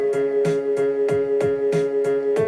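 An Ableton beat drops in its drums, a kick and hi-hat pattern hitting in a steady, even pulse over a sustained bass and synth tone, repeating without pause and with no one talking.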